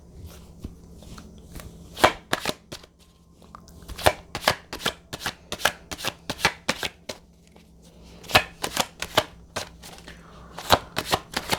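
Tarot cards shuffled by hand in a quick series of crisp riffling bursts with brief pauses, close up and fairly quiet, with no voice.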